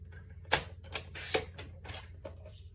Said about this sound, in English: So let's cut those out real quick.